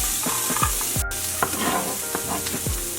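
Carrots browning in a hot pan on the stove, a steady close sizzle with repeated scraping and stirring strokes throughout, no talking.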